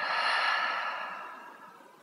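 A deep, slow exhale out through the mouth during a yoga breathing exercise, one long breathy whoosh that fades gradually, close and alone.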